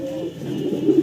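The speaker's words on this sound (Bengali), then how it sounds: "মাশাআল্লাহ এক জোড়া কবুতর দেখাচ্ছি ম্যাকপাই" Pair of large red magpie pigeons cooing up close, a low steady throaty coo with no speech over it.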